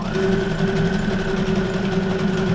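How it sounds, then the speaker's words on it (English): A sewing machine hums and whirs steadily at close range, its motor droning continuously with a fast mechanical stitching rhythm. "now this time I'm gonna actually just sew right through the butterfly"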